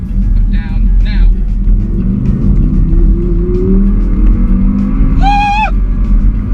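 A 5.2-litre V10 Audi R8 coupe accelerates hard, its engine a loud sustained roar that climbs in pitch through the gears, with a driver talking over it and a brief tyre-like squeal.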